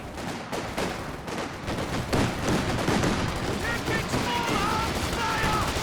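A walking Stuka rocket barrage fires in Company of Heroes 2, a dense rumble of rapid launches and blasts rolling on continuously, with faint warbling tones rising late.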